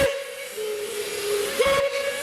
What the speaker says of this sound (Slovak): Minimálne kvôli tej píšťale na ňo nezabudneme.